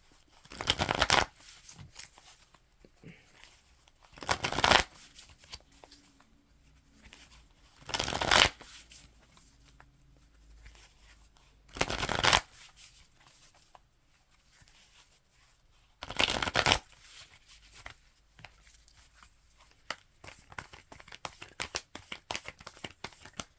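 Tarot cards being shuffled in repeated bursts, five loud riffling bouts spaced a few seconds apart with quieter card handling between, close and alone without speech.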